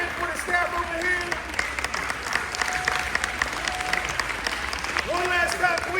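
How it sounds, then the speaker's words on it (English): An audience at an eighth-grade graduation applauds continuously, a steady crowd of clapping hands with cheers and voices mixed in throughout. "Can we clap our hands for them?"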